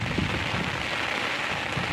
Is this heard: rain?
yes